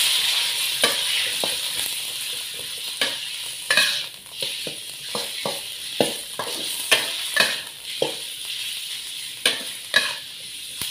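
Three-layer pork belly stir-fries in a pan with coarsely pounded garlic, giving a continuous sizzle broken by repeated scraping and stirring strokes, fairly close and with no talking.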